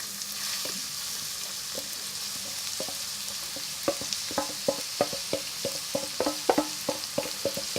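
Onions frying in about two tablespoons of vegetable oil in a pan for a prawn puri: a quiet continuous sizzle with a run of light tapping stirs that become denser and louder toward the end, close up, with no speech.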